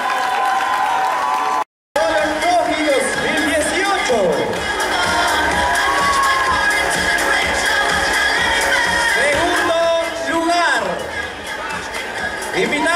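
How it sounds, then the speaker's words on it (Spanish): At a L'Oréal Peru contest event, an audience claps and cheers in a broad, lively wash while music plays underneath and a voice carries over it from time to time; the sound cuts out briefly early on. "y un aplauso para todos ustedes"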